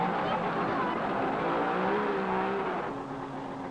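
Rally cars from the 1968 SCCA Press On Regardless rally pull away from the start, one every minute. A steady, loud engine roar with rising revs carries through the clip alongside a voice.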